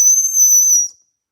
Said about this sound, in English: This is a whistle.